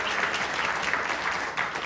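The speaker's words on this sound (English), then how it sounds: "Can we give them a round of applause?" Crowd applause at a storytelling festival, dense, even clapping from a sizable audience throughout, slightly distant and roomy.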